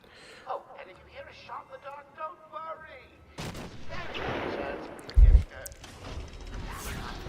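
A sniper shot rings out in a video game during a mansion section, one sharp loud crack about two-thirds through, set against game ambience and background speech.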